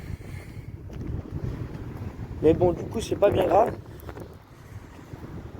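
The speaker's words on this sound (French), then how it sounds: "vous allez sûrement entendre le vent" Wind blowing outdoors as steady low rumbling buffeting across a microphone, continuous throughout beneath someone speaking French.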